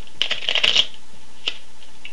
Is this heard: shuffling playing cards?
yes